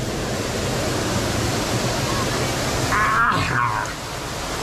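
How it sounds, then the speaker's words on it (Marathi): Bhaje waterfall near Malavali, Lonavala, pours nearby as a loud, steady broadband rush of falling water, with a brief voice speaking over it toward the end. "हा आपल्या बाजूला वॉटरफॉल आहे"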